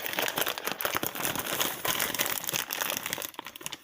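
Loud, continuous crinkling of plastic packaging handled up close, with dense rustling bursts throughout and a brief quieter dip near the end.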